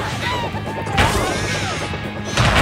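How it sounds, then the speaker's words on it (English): Cartoonish explosions go off in the Jackbox Party Pack 5 game Zeeple Dome, two loud crashing bursts about a second and a half apart over whooshing game effects. "those are some epic explosions"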